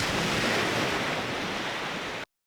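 Ocean waves playing from a sound effect file, a loud, dense wash of surf and rushing water that fills the whole short stretch, then stops abruptly.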